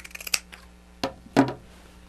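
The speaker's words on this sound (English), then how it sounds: "I'm going to cut this side, and you see it's a different fabric on the other side" Scissors snip through a fabric strap, producing a few crisp close-up cuts with quiet, small handling clicks in between.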